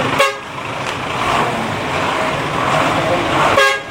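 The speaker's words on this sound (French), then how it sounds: "Klaxonner pour alerter les usagers en cas de danger" Car horns honk repeatedly in dense road traffic, with short blaring toots at the start and end over a constant rumble of engines and street noise.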